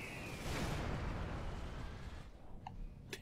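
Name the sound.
bombs exploding on bots in Supreme Commander video game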